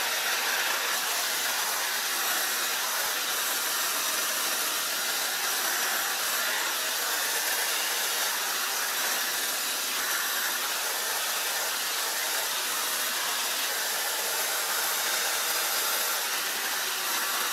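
A Dyson Airwrap styler blows a steady, loud rush of air while drying hair, an unbroken hiss-like whoosh that holds even for the whole stretch with no pauses.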